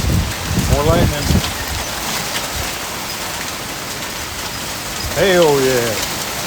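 Hail and rain falling steadily through an April spring storm, a dense continuous patter and hiss throughout, with a voice talking briefly near the start and again toward the end.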